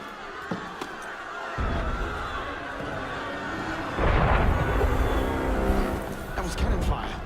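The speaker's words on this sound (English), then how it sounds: "That was cannon fire." Deep booming blasts of cannon fire in the video game Assassin's Creed Unity, several heavy thuds over a rumbling din with voices talking underneath.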